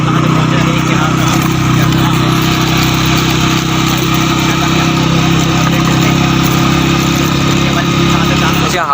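Motorbike engine droning steadily while riding through a cow market area in Karachi, loud and close with constant road and wind noise, and someone talking over it.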